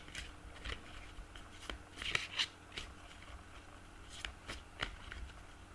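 Tarot cards shuffled and cut by hand, giving a run of soft papery riffles and sharper flicks at an irregular pace, close and quiet, with no talk.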